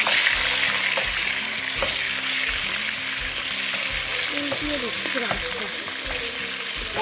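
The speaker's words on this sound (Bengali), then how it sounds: "মাছ 1 ফিট হয়ে গেছে, খুব সুন্দর ভাজা হয়েছে।" Fish frying in a pan over an outdoor wood fire, with steady loud sizzling and occasional scraping stirs throughout.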